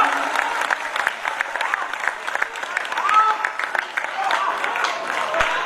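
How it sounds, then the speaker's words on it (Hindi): Audience at a Hindi kavi sammelan poetry gathering breaks into sustained, dense applause from a large crowd, steady clapping filling the whole stretch. "आप लोगों ने ताली बजाई थी।"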